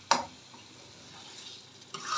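Biryani masala stirred and mixed in a pot, a soft scraping with a quiet sizzle beneath, opened and closed by sharp clinks of a spoon against the metal.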